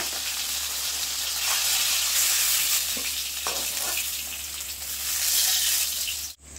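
Mrigal fish frying in oil until reddish-brown, a sustained bright sizzle with a few stirring knocks and scrapes, ending with a brief cutoff.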